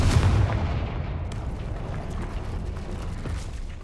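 Explosion spells in the Hogwarts Legacy video game land as a heavy, rumbling blast that starts loud and settles into a sustained, dense roar of debris lasting several seconds.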